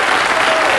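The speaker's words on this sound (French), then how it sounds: "Vous pouvez vous applaudir" A French television studio audience claps together in a brief, loud, dense burst of applause with no pauses.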